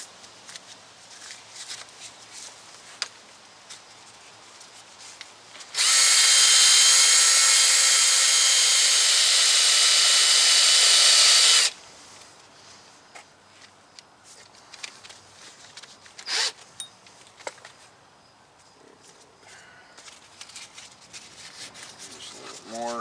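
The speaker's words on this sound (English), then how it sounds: "this is 400 grit sandpaper" Brake parts from a 2004 Sierra 2500 rear brake job are sanded with 400 grit sandpaper in a continuous, loud, close rasping that runs for about six seconds, with quieter handling noises before and after.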